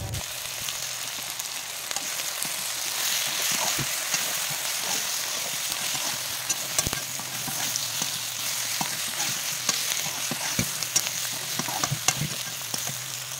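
Meat with turmeric frying and being stirred in a pan: a steady, close sizzle that stays loud and even throughout, with small scraping knocks from the stirring and no voices.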